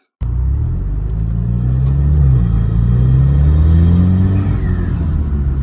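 An Alfa Romeo Giulia or Stelvio engine with a performance intake starts abruptly and rumbles deeply, rising and falling in pitch through a couple of throttle blips, loud and close.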